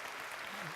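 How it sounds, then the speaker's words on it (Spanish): A short burst of audience applause at a talk on innovation and leadership, dense clapping heard briefly with a voice coming in over it. "Por favor, brindemos un fuerte aplauso."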